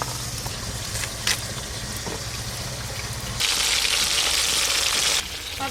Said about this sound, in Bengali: তেল খুব ভালো করে গরম হয়ে গেছে মাছগুলো ভেজে নেব